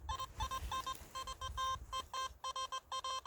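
A Nokta Makro Simplex+ metal detector gives a rapid series of repeated electronic beeps while sweeping a newly ploughed field, the tones pulsing rhythmically in short bursts over faint rustling ground noise.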